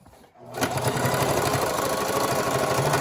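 After a brief quiet moment, a Singer Classic sewing machine starts up and stitches a pant hem with a rapid, steady mechanical whir that runs close and continuous to the end.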